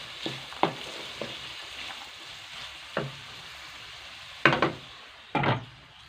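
Peas and mixed vegetables frying in a pan for a desi macaroni dish, a low steady sizzle broken by several sharp stirring scrapes and clinks of a utensil against the pan, louder toward the end.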